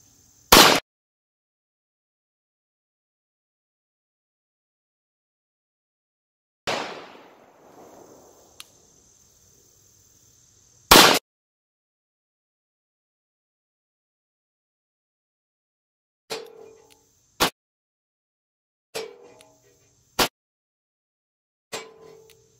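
Pistol shots at an outdoor shooting range, a few sharp isolated cracks spaced several seconds apart, then a quicker string of four or five shots, each ringing briefly against otherwise near silence.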